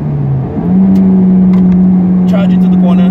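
Inside a manual Honda Civic Type R, the engine tone dips briefly and then jumps to a higher, sustained pitch as it rev-matches on a downshift, loud and close over road noise.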